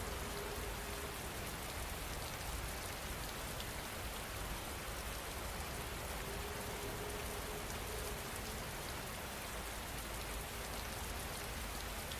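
Steady rain falling, a dense and even hiss of drops on surfaces that holds unchanged throughout, moderately close and with no voices over it.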